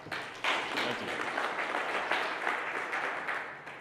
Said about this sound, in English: Please give a welcoming round of applause.